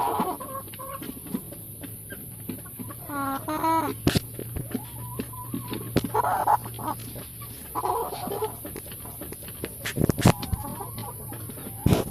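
Chickens cluck on a poultry farm during treatment of sick birds, with a rooster-like call and scattered close clucks over a steady low hum and sharp knocks.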